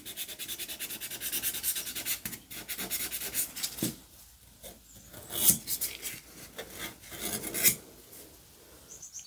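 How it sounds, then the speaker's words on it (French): A nail buffer rubs back and forth over an Acrygel nail surface, first with the medium-grit side and then the fine side, making soft repeated rasping strokes with a few sharper scratches, close and alone. "je passe mon buffer sur toute ma surface, côté grain moyen et ensuite côté grain fin"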